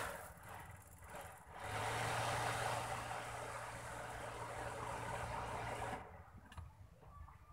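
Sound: 1983 Daihatsu Charade engine running

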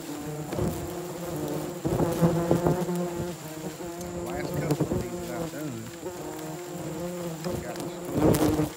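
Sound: yellowjacket wasps buzzing around a nest

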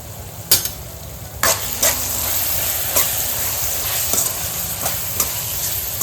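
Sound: vegetables and spices frying and being stirred for paneer biryani

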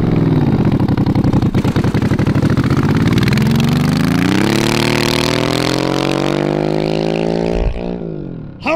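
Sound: go-kart engine accelerating on airstrip top-speed run

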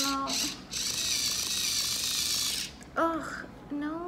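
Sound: hair twisting tool tightening and whirring

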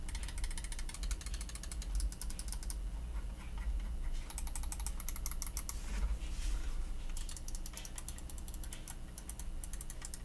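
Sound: computer keyboard typing

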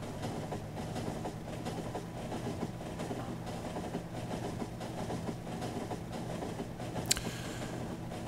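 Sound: trains running in the video game Factorio

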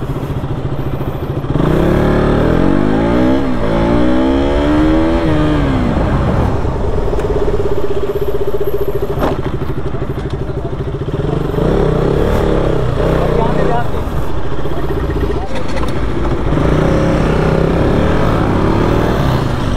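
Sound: motorcycle revving and braking for a stoppie stunt

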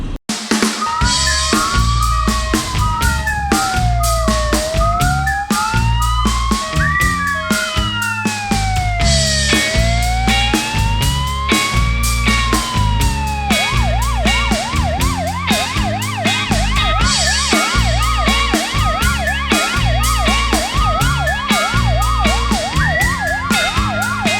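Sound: ambulance siren

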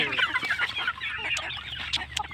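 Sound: chickens scrambling to eat banana stalk

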